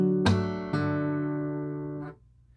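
An acoustic guitar strum cycle from a song, a sharp percussive thumb strike and a second strum, then ringing chords that fade before a light final touch, close and with no voices.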